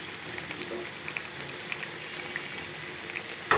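Boal fish curry simmering in a pot, a steady close bubbling hiss with small pops and crackles throughout, faint and continuous, ending in a brief louder clatter.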